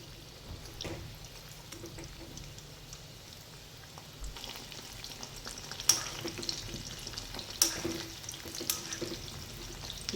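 Chicken cheese balls fry in a pan of hot oil, a steady soft sizzle and crackle running throughout with a few brighter pops and a spoon scraping as they are gently turned.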